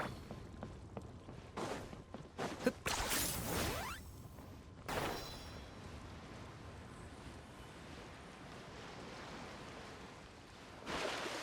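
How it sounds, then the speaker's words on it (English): Sea waves lapping at a port in the video game Genshin Impact, with several sweeping washes rising and falling over a quiet, airy background; soft and fairly distant, with no talk. "The sound of the waves in this familiar port."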